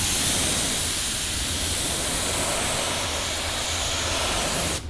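A paint spray gun hisses continuously during a small spot repair on a car, a loud, steady, broad rush of air and atomized paint that stops abruptly at the end.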